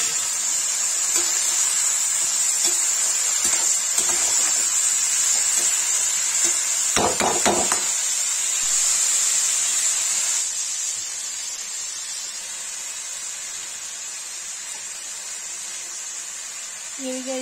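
Potatoes frying in a pan with cumin and onion for a Kashmiri methi aloo dish, a steady hissing sizzle with a short clatter of a utensil partway through, easing slightly toward the end.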